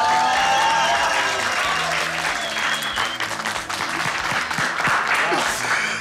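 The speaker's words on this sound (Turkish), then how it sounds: "O zaman öncelikle bugünün planlayıcısı olan İpek Boran'a koca bir alkış alalım." A room full of people gives loud, sustained applause for İpek Boran, the day's planner, with dense clapping and a music bed running underneath.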